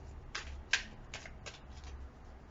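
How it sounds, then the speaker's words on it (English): Tarot cards being shuffled, several quick riffling bursts close up and fairly quiet, each a short papery flutter separated by brief pauses. "One more shuffle."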